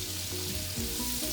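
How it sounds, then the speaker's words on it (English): Bacon renders in a pan, a dense, steady close-up sizzle with crackling fat and no talk. "Jay is just rendering some bacon right now and getting some grease going"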